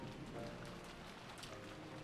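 Steady rain pattering on a surface, an even, close hiss of countless drops with no pauses and no voices, in a scene from the visual novel Umineko.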